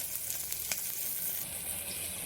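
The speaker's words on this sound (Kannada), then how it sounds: "ಸ್ವಲ್ಪ ಫ್ರೈ ಮಾಡ್ಕೊಳ್ಳೋಣ." Chopped beetroot and onion frying in a pan, giving a bright continuous sizzle with a couple of quick stirring scrapes early on, close and steady for a couple of seconds.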